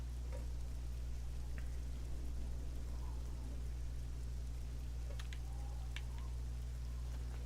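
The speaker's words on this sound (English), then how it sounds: "It's still raining." Rain falls in the video game Oblivion, a soft constant patter over a low steady hum with a few faint ticks and clicks, no voices.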